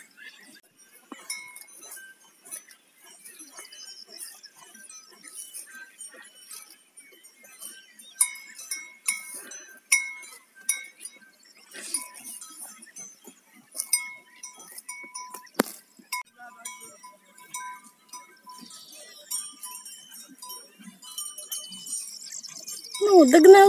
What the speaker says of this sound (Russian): Такая коровушка. Телочка еще маленькая